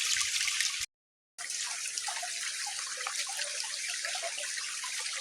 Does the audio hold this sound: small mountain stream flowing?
yes